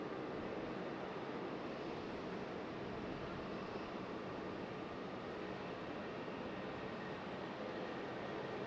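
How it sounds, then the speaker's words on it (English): An American Airlines Airbus A319 jet departing from Raleigh-Durham airport, a faint distant broadband roar holding steady throughout with no voices. "Sounds like an A319 departure. Very loud American."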